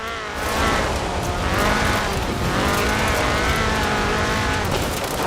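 A Ford RS 1800 rally car tears along in the racing game Forza Horizon 4, its engine roaring loud and continuous with wavering pitch through gear changes and some tire noise, and no voices.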